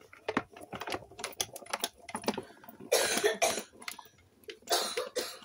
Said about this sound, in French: c'est mon fils qui est au salon et qui tousse